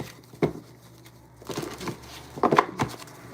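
A few soft, brief riffling and slapping sounds of tarot cards being shuffled, spaced unevenly between quiet moments, close up.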